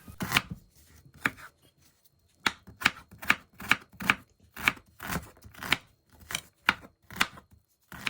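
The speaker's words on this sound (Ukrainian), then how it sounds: "В першу чергу нарізаю цибулю кубиком." A knife chops an onion into cubes steadily on a cutting board, sharp close knocks in quick bursts with short pauses, no voices.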